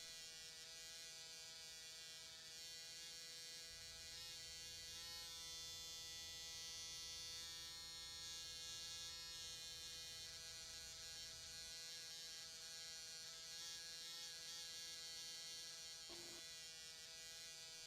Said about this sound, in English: Keep the machine slow and steady, alternating from side to side as you go back to connect any previous points.